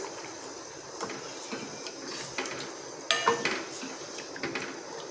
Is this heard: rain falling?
no